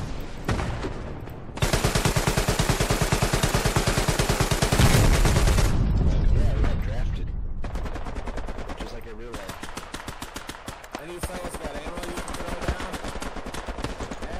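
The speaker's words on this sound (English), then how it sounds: "strafing run coming in from northeast to southwest on the hotel marker" Dense, loud automatic gunfire from an air support strafing run in the World War II shooter Hell Let Loose, a long sustained burst of rapid shots with heavy impacts, then continued crackling fire and rumble.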